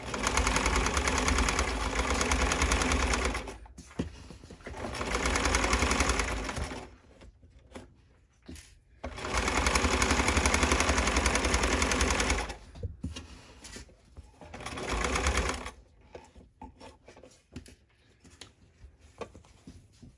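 A sewing machine stitches a seam on boxer shorts in repeated runs of steady motor whirring, each lasting a few seconds, with quiet pauses between them and fabric handling in the gaps.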